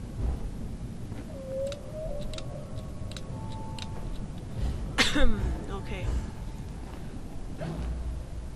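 A single short cough bursts out midway, surrounded by faint ticking and thin, high tonal sounds.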